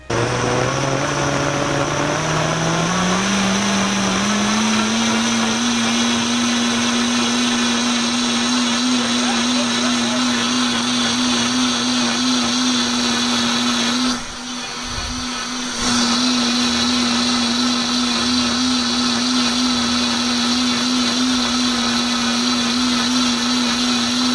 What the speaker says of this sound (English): I want you to come and get a close-up as it's blending.